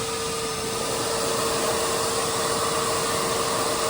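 A DeWalt 2618 power tool runs off a cheap portable power station, giving a steady, loud, continuous motor whir with a constant tone held throughout, no voices over it.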